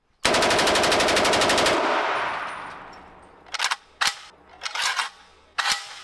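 Kalashnikov rifle in a video game firing one long rapid automatic burst, then after a pause several shorter bursts, loud and close with no talking.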